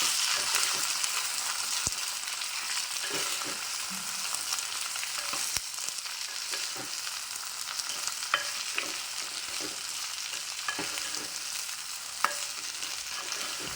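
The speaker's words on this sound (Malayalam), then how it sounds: "നന്നായിട്ട് ഇളക്കിയെടുക്കുക" Chopped ash gourd tossed with shallots and chillies in a hot pan, crackling and sizzling steadily with repeated stirring scrapes and clicks of the spoon throughout, close and alone with no talk.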